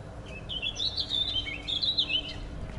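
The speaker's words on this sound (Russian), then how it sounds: "Птички поют." Small birds chirp and twitter outdoors near a forest beside an industrial area, a clear repeated high song over a low background rumble, with no talking.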